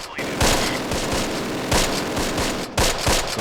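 Bursts of tank and small-arms gunfire in the WW2 strategy game Close Combat, loud repeated booming shots and rattling fire, crowding one another over about three seconds.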